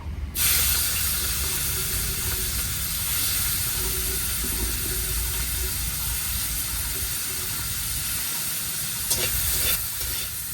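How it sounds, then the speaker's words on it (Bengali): Prawns rubbed with salt and turmeric hit hot oil and fry with a sudden loud, dense sizzle that holds steady and close for about ten seconds, with a brief stir near the end. "এখন আমরা চিংড়ি মাছটাকে ভেজে নেব"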